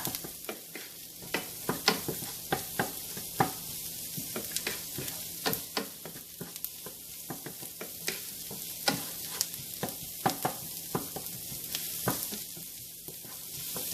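Ginger and garlic sauteing in a pan for crab masala, a steady sizzle broken by frequent sharp clicks and scrapes of stirring throughout, close and clear with no voices.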